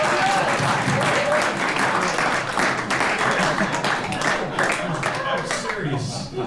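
A meeting audience applauds the calendar volunteers with sustained, dense clapping that carries on throughout, joined by a few chuckles and murmuring voices.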